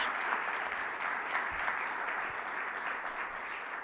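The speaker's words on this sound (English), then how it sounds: "Let's give our governor another round of applause." A crowd claps steadily throughout, a dense, sustained round of applause without pause.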